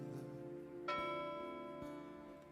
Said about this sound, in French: des cloches,